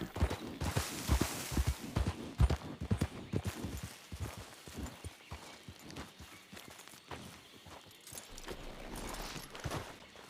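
Rhythmic hoofbeats of a horse galloping in a video game, loud and close at first, then easing into softer, slower clopping.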